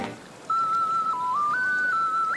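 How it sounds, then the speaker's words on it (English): A short ocarina melody plays in The Legend of Zelda: Link's Awakening, a clear, pure whistle-like tune stepping between a few notes over a quiet game background. "I'm gonna ocarina."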